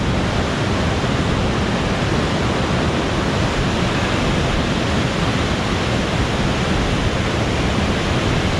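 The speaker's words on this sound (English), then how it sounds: "Not sure if you can hear me because of the sound of this waterfall." A steady, loud roar of a waterfall on a river in Norway fills the whole stretch, a constant broadband hiss of rushing water with no breaks or voices.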